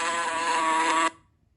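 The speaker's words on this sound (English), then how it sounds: "Bumblebee." A bumblebee buzzes in a dense, steady drone for about a second before stopping abruptly, leaving faint low rumble behind.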